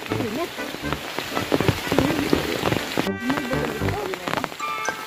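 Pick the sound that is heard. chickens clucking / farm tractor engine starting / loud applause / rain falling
rain falling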